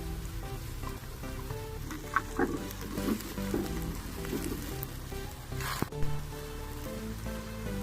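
Onion and garlic-ginger paste frying in a pan while cooking fish curry, a dense steady sizzle and crackle close up with a few scraping stirs, no talk.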